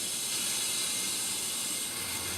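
Water starting to run into a reverse osmosis system, a steady broadband hiss and rush with no talking, fairly even throughout.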